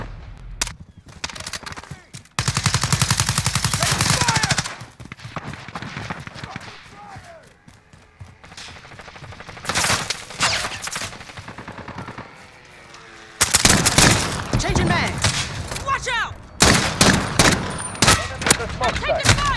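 Call of Duty Modern Warfare gunfire: loud, close bursts of automatic fire and scattered single shots in repeated volleys, with battle chatter from voices between bursts.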